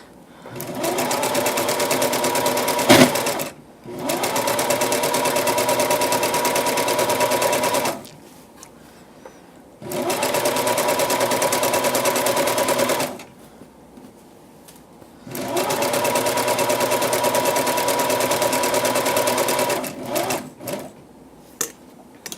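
A sewing machine stitches cosplay fabric in three long, fast-running bursts separated by short pauses, with small clicks and handling noises between runs, close and clear.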